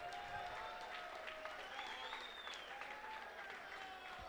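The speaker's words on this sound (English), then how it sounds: "a round of applause for one great fight and two amazing fighters" An audience applauds the two fighters after a three-round Muay Thai bout at a combat event, giving a steady, moderately distant wash of clapping with a faint crowd murmur and an announcer's voice over it.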